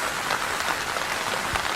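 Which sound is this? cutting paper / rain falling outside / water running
rain falling outside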